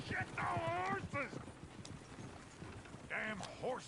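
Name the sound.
horses galloping in Red Dead Redemption 2 video game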